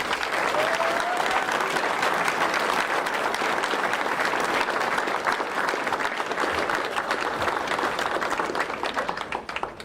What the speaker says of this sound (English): One last round of applause for all of our new citizens.